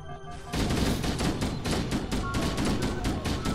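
Rapid bursts of automatic gunfire from Halo: Combat Evolved, dense overlapping shots at steady loud volume for several seconds, following a brief quieter lead-in.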